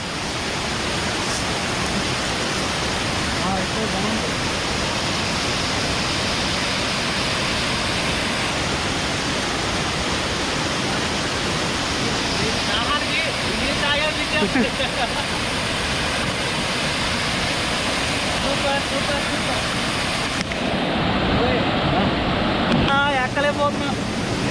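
Bahubali waterfall at Badigunta near Akuru, Rampachodavaram, roars as a loud, continuous broadband rush of falling water, with people talking faintly beneath the steady torrent.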